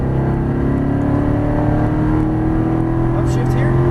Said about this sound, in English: Full throttle, as fast as you can go.